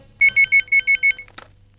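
A telephone rings in a dramatic film scene: six quick, evenly spaced electronic tones sound loud and clear in a quiet room, followed by a brief click as the call is picked up.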